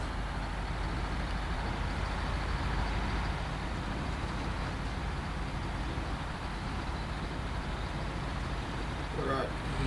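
An old truck engine drives along in the SnowRunner off-road game, a steady low rumbling drone held at constant loudness with no clear gear changes.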